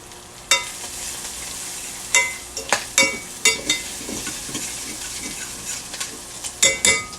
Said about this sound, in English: You got your bacon frying up in there. You got your onions.